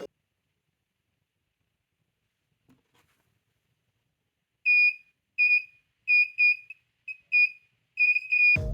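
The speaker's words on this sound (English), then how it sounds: "This is a piezo buzzer." A piezo buzzer from a car alarm sounds in short, shrill, high-pitched beeps in an irregular pattern, loud and close, following several seconds of near silence.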